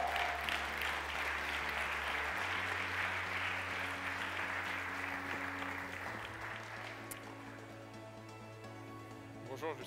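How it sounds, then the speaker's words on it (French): Steady audience applause fills an awards ceremony hall at the E-Commerce Awards 2014, dense and continuous throughout while a low musical hum shifts beneath it and the clapping thins slightly near the end. "Donc, on peut l'applaudir très,"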